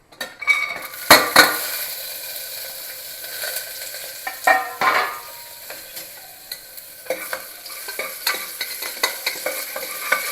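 Cashews frying in a little ghee in a pan with green chillies and cinnamon, soft sizzling under repeated scrapes and clinks of a spoon stirring against the metal, close and fairly quiet.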